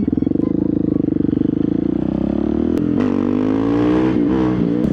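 A Husqvarna 701 Supermoto motorcycle runs close by with a pulsing single-cylinder idle that rises into revving as it pulls away, the pitch climbing and dropping with gear changes; no speech.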